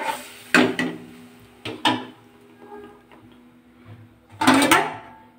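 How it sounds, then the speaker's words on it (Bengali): A lid goes onto a pot of pangas fish curry with a few sharp knocks and clatters, two close together early and a louder, longer clank near the end, with quiet gaps between. "এবার ঢাকনাটা দিয়ে দিলাম।"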